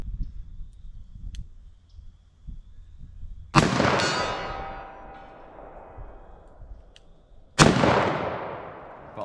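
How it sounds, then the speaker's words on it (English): Two sharp, loud gunshots ring out several seconds apart from a Winchester Big Bore .357/.44 Magnum, each a sudden blast with a long decaying echo over a quiet outdoor background. "Let me try a double action shot."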